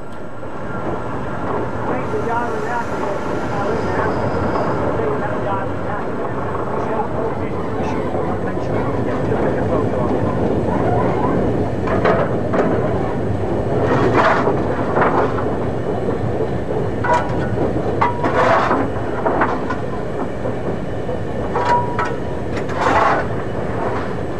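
An LMS express steam locomotive runs on the Settle–Carlisle line, a heavy engine worked there only by special dispensation. It gives a steady, loud rumble with rhythmic wheel clatter and bursts of exhaust throughout.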